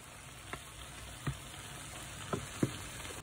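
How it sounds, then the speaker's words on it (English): Szechuan chicken stir-frying in a pan over a high flame gives a steady, fairly quiet sizzle, broken by a few distinct clicks and scrapes of stirring spread through the stretch. "Stir fry on high flame for 2 minutes"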